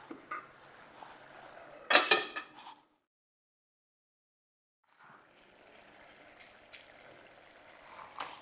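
A lid clatters sharply onto a pot of simmering green pea and spinach bhaji. A brief quiet gap follows, then a faint, soft bubbling.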